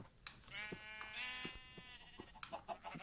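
Sheep in a blocky video game bleat several times in quick succession, clear and close, with short wavering calls and a few clicks between them.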